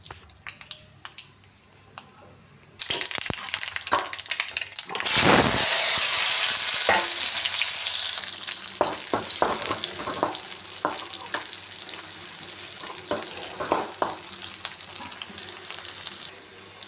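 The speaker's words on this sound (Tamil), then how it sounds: "இப்போ தாளித்து விட்ருவோம்." Oil heats in a pan for tempering before amaranth greens go in for a Tamil stir-fry, breaking into a loud steady sizzle partway through, with spoon scrapes and clinks continuing over the frying hiss.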